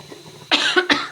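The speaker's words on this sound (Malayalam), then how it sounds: "മുളകിൻ്റെ ഒക്കെ ഒരു കുത്തൽ വന്നിട്ട് ചുമ വന്ന്." Two sharp, close coughs break out back to back while someone cooks with chilli and masala, stung by the pungent fumes. Faint kitchen sounds come before them.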